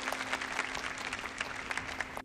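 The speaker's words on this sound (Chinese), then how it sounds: "我们掌声表达一下敬意" Sustained audience applause at a lecture on the excavation of the Jin Marquis cemetery, dense rapid clapping from a large crowd filling the whole stretch at steady loudness, ending abruptly.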